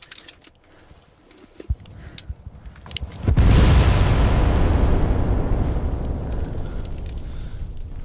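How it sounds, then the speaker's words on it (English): Seventeen mines detonate at once beneath German lines in a dramatized Somme 1916 battle scene: after a few seconds of quiet with faint clicks, a sudden massive blast erupts into a loud, sustained rumbling roar that slowly fades. "7:28 a.m. and 17 mines detonate all at once beneath the German lines."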